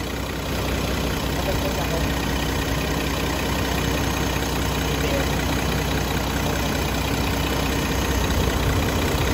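An Isuzu Gigamax 10-wheeler wing van's 6WF1 CRDI diesel engine idles steadily nearby with a constant low rumble and faint knocking, unchanging throughout.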